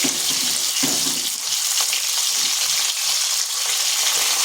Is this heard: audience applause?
no